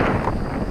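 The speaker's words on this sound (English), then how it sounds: "You can see it's pretty windy out here today." Wind blows outdoors across a pepper garden, a loud, rumbling buffet of wind against the microphone that continues without break through the short moment.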